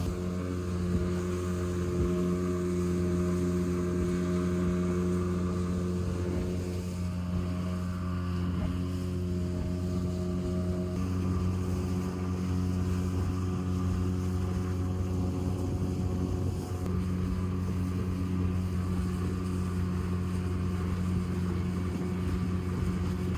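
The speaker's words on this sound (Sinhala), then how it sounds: "අපි මේ බෝට්ටුවේ පැයකට අධික කාලයක් දැන් අපි ගමන යනවා" A motorboat crossing the sea near Kalpitiya on the way to an island, engine droning steadily and loudly throughout with constant hum and water rush, no talking.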